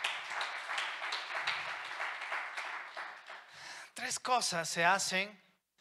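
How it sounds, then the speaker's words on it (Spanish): A church congregation breaks into loud, sustained applause, the clapping filling the space before a voice cries out over it. "Dale un fuerte aplauso a Dios."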